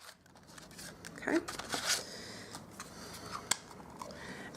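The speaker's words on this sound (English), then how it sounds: "grab my circle tab punch, and I'm just going to cut out a tab" A circle tab punch cuts a small tab from thin silver foil for a handmade card, giving a single sharp, close click after some crinkling of the foil, with brief speech nearby.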